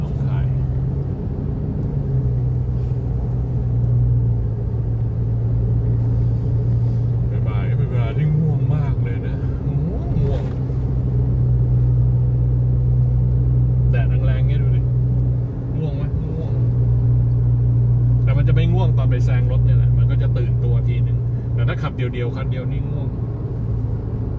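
Car driving a winding mountain road, its engine a steady close drone inside the cabin with pitch rising and falling through gear changes, while someone talks over it.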